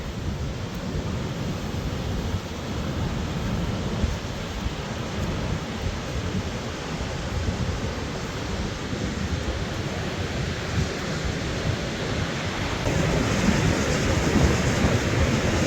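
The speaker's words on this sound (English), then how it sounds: "Nice and breezy here." A steady breeze blows across the beach at South Carlsbad State Beach, a continuous broadband rush with low wind buffeting on the microphone and surf-like wash, rising slightly near the end, with no talk.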